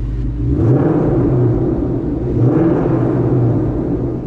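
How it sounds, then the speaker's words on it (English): A 2020 Ford Mustang GT with a Borla exhaust revs inside a parking garage, its deep V8 rumble swelling in two rises around a steady, booming idle that fills the enclosed space. "Let's go and give it a few revs while we're in this parking garage so you guys can hear the Borla."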